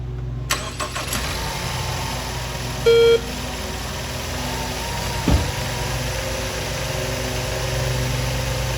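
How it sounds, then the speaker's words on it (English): A Ford Edge with a fuel pressure fault cranks briefly and catches, then settles into a steady, close idle, with a short electronic beep a few seconds in and a faint click later. "So I went ahead and I started the vehicle. I'll start it up for you."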